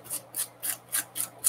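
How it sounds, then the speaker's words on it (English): Six evenly spaced, crisp scraping strokes close up, scraping material off onto a paper envelope, each a short rasping swipe with brief pauses between. "Scrape some of this off onto Irene's envelope."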